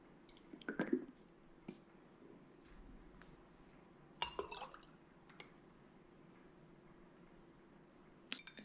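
Citrus-scented liquid Castile soap being poured into a container for homemade hand soap, heard as faint, sparse drips and small liquid splashes in a quiet room.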